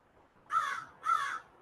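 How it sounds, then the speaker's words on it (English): Two loud, harsh caws from a crow sound close by in quick succession, each lasting about a third of a second, with a steady hum underneath and no talking. "crow, shush."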